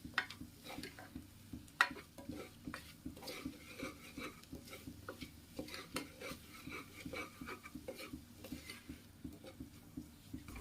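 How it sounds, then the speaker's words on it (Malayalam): Spices, coriander, turmeric, chicken masala and chili powder, being stirred and sautéed in a pan for potato curry, with steady scraping and stirring clatter, soft sizzle and occasional utensil clinks against the pan, fairly close. "ഇത് ഇത്രയും ചേർത്ത് നമുക്കൊന്ന് വഴറ്റിയെടുക്കാം."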